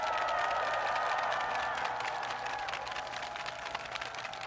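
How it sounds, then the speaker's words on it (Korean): A crowd at a political rally applauds and cheers, a broad, fairly distant wash of clapping that holds steady and fades slightly. "큰 박수로 격려 부탁드립니다."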